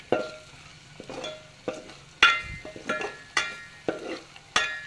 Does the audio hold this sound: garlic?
yes